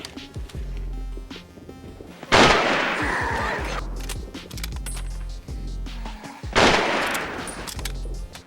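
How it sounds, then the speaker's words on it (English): Two loud, sharp rifle shots from the video game Forbidden Siren crack out several seconds apart, each with a brief ringing tail over a low ambient drone. "The rifle is very strong, and typically takes out the majority of enemies in one shot."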